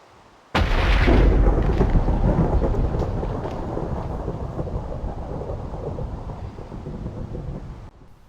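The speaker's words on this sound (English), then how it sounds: "and then it started raining." Rain and a rolling thunderstorm in the game Minecraft: a sudden loud thunderclap breaks in, then a long rumbling roar over steady heavy rainfall that slowly fades, with no voices.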